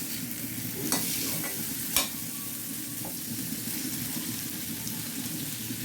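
Elephant foot yam fries in oil with a soft, constant bubbling sizzle, quiet and close, with a couple of light utensil clinks.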